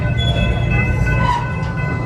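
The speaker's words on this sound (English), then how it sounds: "Now it's time to get on a train so we can go get some good views of the Big Bad Wolf construction." A ride-on amusement park train at Busch Gardens Williamsburg rumbles steadily up close, a continuous loud rolling drone of wheels on track with faint squeals, and no talk.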